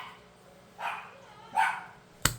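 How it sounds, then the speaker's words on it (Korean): A dog gives two short barks a moment apart, moderately close, followed by a sharp click or knock against a quiet room background. "네저 강아지 소리였어요"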